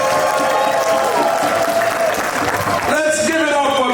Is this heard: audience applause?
yes